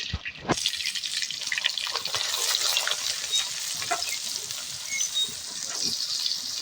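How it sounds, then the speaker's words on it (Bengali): Chopped onion and garlic paste fry in a pan with a steady crackling sizzle and scattered sharp pops and spatters, close and fairly loud, with no talking. "পেঁয়াজটা আর রসুনটা লাল লাল করে ভালো করে ভেজে নেব।"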